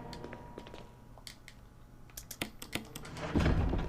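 A typewriter clacks in the Resident Evil Remake video game: scattered soft taps that build into a brisk run of sharp key strikes, faint and close, with a heavier thud at the end.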